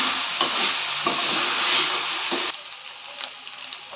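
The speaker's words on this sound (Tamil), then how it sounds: "இப்போ முட்டையை எல்லாத்தோடையும் மிக்ஸ் பண்ணி விட்டுக்கலாம்" Egg is stirred and fried with cabbage and capsicum in a hot pan, giving a loud, steady sizzle with scraping strokes that drops to a quieter crackle halfway through.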